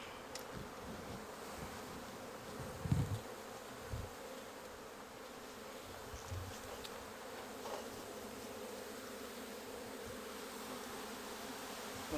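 Honey bees hum around an urban hive in a soft, steady drone, faint and continuous, with a few brief thumps and handling knocks close by and no talking.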